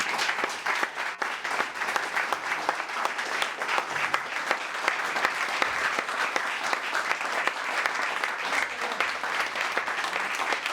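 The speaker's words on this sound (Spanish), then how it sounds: "Fuerte, fuertísimo ese aplauso para este tan claro periodista" An audience gives a journalist sustained applause at a café event, a steady dense wash of many hands clapping that holds at an even level throughout, with only faint voices beneath.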